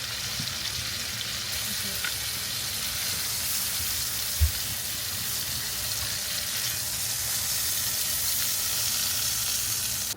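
Steaks searing in a hot pan: an even, loud hissing sizzle that holds steady throughout, with one brief low knock midway and no talking.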